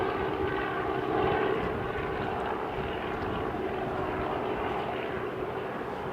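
A helicopter flies near the Sydney airport runway, its steady rotor and engine roar holding loud and constant throughout, with no other sounds standing out.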